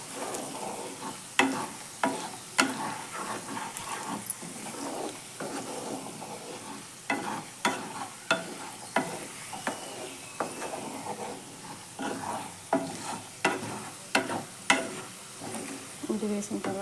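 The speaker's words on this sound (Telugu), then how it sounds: "ఇది ఆయిల్లో ఫ్రై అవుతుంది కాబట్టి బాగా వేగినట్లు వేగిపోతుంది." Spices such as pepper, mustard seed and cumin powder fry in hot oil for chicken pickle, giving a steady soft sizzle. A spoon scrapes and stirs the pan in regular clicks throughout the clip, with no talking.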